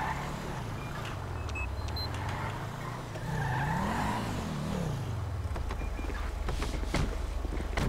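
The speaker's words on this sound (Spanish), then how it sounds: "Vale, voy a meter el coche aquí dentro" A police car in GTA 5 drives and swerves, its engine droning steadily while tires squeal and skid in sharp bursts, with faint beeps and clicks on top and no talk.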